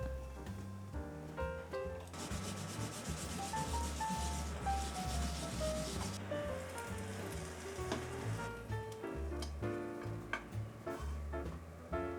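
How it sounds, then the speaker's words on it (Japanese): Skin side of a piece sizzling in a frying pan during pan-searing, a steady crackling hiss lasting throughout, close and fairly loud, mixed with a melodic tonal layer. "5分蒸したらひっくり返して皮面を3分焼く。"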